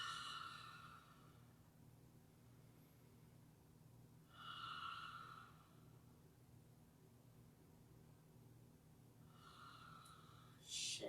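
Three slow, deep breaths during a yoga session, each a soft airy exhale rising out of quiet room tone, spaced several seconds apart and faint.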